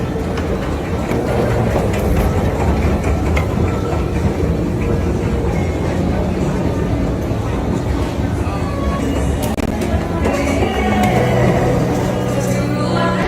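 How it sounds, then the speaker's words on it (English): Steady loud rumble of a New York subway shuttle train to the E train in motion, with rattling, squealing wheels and clanks, continuous throughout. "This is the shuttle to the E train."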